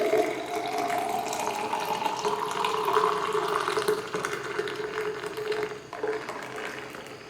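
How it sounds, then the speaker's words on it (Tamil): Beetroot juice poured into a glass in a home kitchen, a steady close trickling stream of liquid that holds for several seconds, tapers slightly and then thins out near the end. "இப்போ நான் கிளாஸில் சர்வ் பண்ணிக்கிறேன்."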